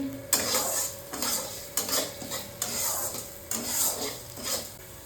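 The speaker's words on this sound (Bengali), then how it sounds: "পুরো ডালটা একটু ভেজে দিচ্ছি" Mung dal fries in oil in a pan while a spoon stirs it, rhythmic scraping strokes roughly once a second over a continuous close sizzle, loud and without any talk.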